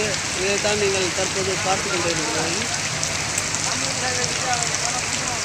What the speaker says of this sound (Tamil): இடி மின்னலுடன் கூடிய மழையானது தற்பொழுது விருத்தாசலத்தில் அரை மணி நேரத்துக்கு மேலாக பெய்து கொண்டிருக்கிறது